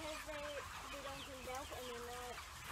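Farm chickens clucking close by, a run of short repeated tonal clucks and calls in quick succession, clear and fairly loud over a steady background din.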